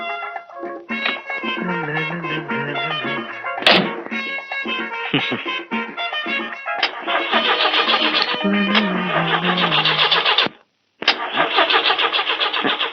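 A taxi car's engine cranks repeatedly while trying to start, loud close starter grinding and sputtering in bursts with a thunk and a brief silent gap before cranking resumes.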